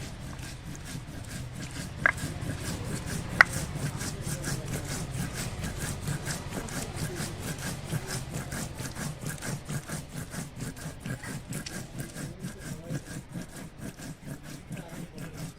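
Whole cumin seeds and dried red chillies ground on a traditional stone slab, with steady rhythmic scraping and rubbing strokes, soft and close, continuing throughout with no talk.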